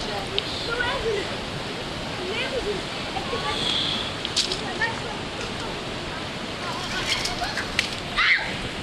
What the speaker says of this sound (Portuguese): Olha a fogueira!